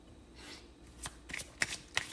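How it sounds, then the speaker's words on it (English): Tarot cards are shuffled by hand in a series of crisp riffling bursts and sharp snaps, close and fairly quiet, with no voice over them. "but as always, I will shuffle live."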